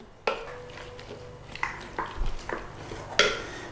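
Carrots tumbling into a crockpot for coq au vin, a series of soft clunks and clatters against the pot with a faint ringing tone, close and fairly quiet.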